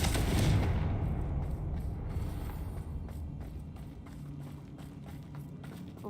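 Fire spell blasts from the Confringo spell in the video game Hogwarts Legacy: a loud explosive burst at the start that fades into a rumbling tail, followed by a stretch of softer scattered impacts and combat noise with no talk.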